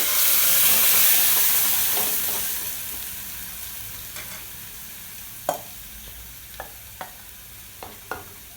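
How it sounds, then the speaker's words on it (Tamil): Greens poured into a hot pan of browned chilli tempering for Tamil sirukeerai masiyal give a loud steamy sizzle that fades over several seconds, followed by a few sharp stirring clicks and taps against the pan. "கீரை இதில் ஊற்றிட்டு அடுப்பு ஆஃப் பண்ணிடுங்க"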